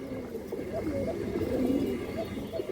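Female pigeon cooing close by, soft throaty repeated coos bubbling over a busy low background murmur.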